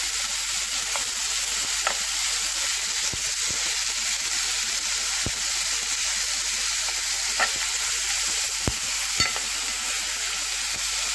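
Chicken livers sizzling in a pan with a spoonful of minced garlic added, a steady bright hiss of frying with occasional sharp pops and ticks, close and uninterrupted.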